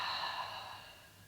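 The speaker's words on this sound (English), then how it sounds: "Checking with the breath, breathing in and a bigger breath out." A long, deep breath out during a side stretch while leaning over a straight leg in a pelvic health exercise, a soft airy exhale close to the microphone that fades gradually over about a second.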